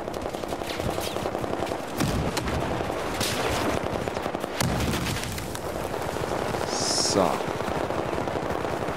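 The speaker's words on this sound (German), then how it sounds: "Oh, da schießen sie schon." Sustained gunfire in the shooter game Battlefield 4: rapid machine-gun bursts and heavy blasts layered over a dense battle rumble, with someone briefly talking over the action.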